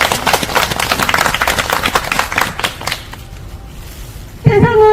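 Applause from an audience at a union rally of Coway service workers sounds as dense, close clapping for about three seconds, then fades to a faint patter, with a voice cutting in near the end.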